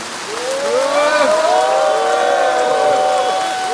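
Crowd at an outdoor March 1st independence commemoration rally in Gyeongnam claps warmly to welcome a speaker, a thick continuous wash of applause mixed with scattered cheering voices, steady and fairly loud throughout.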